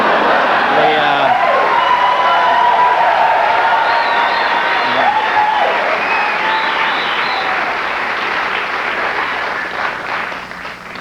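A late-night talk show studio audience applauds and cheers in a loud, sustained burst with whoops and shouts, gradually thinning and fading toward the end.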